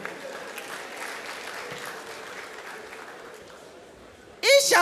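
Scattered audience clapping at a live stand-up comedy show, moderate and uneven under room noise, followed by a loud sudden burst of sound at the end.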